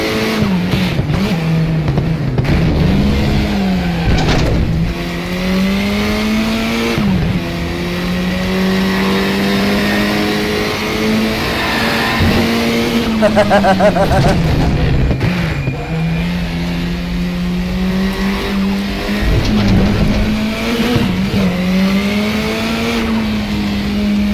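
A KTM X-Bow race car at Laguna Seca in the RaceRoom racing game roars steadily at close range, its engine note rising and falling through shifts and corners, with bursts of harsher revving and tire squeal.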